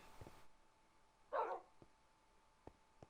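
A dog barks a single short burst somewhere off in the background, faint and distant, with a few soft clicks around it and no voices.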